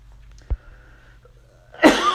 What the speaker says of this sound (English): No, that's not a COVID cough.